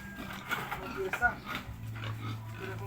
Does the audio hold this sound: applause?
no